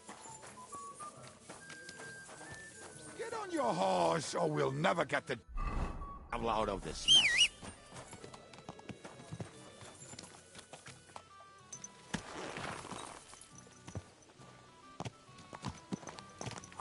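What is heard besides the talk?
horse hooves clip-clopping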